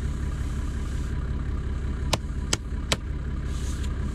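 A Toyota 2H Turbo engine in a vintage truck idles with a steady, low rumble, interrupted by a few sharp, brief clicks or knocks partway through, with no talking.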